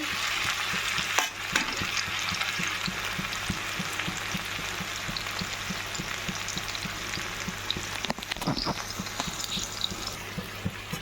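Milk and ingredients frying in a pan for a quick home-cooked meal, a steady crackling sizzle throughout with rhythmic stirring scrapes, close and fairly loud, no talking.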